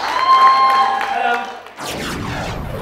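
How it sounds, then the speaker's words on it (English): At a British Asian model competition, a tonal musical sound plays first, then drops away and gives way to a burst of clapping and cheering from the audience that continues to the end. "Round of applause for Raj."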